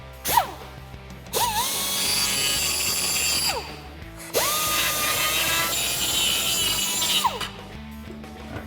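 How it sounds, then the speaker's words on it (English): A die grinder opens up a coilover mount on a 1994-2004 Mustang, whining up to speed in three separate bursts, each spinning up sharply and cutting off, close and loud with no talking. "we're gonna take a die grinder and just open that up a little bit on both sides"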